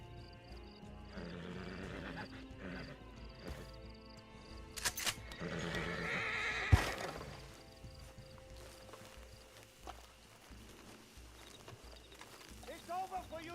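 In a multiplayer role-play video game, a horse that has just been shot neighs and whinnies amid hoofbeats, gunfire and other game noise, while someone talks over it.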